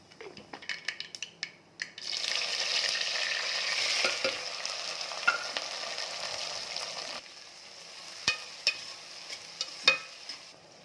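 Mustard seeds and cumin hit hot oil with a sudden loud hiss and crackle that holds for several seconds, then fades. A few sharp pops and utensil taps come before and after, close up and without speech.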